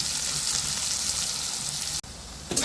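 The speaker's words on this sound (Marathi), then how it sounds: "आता या कांद्याला छान असं लाल उसर तळून घ्यायचं याच्यामध्ये." Onions fry in a pan with a steady, dense sizzle that fills the whole stretch, broken by a brief dropout near the end before resuming.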